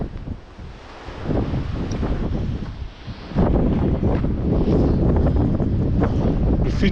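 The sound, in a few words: strong wind on a Fitz Roy mountain hike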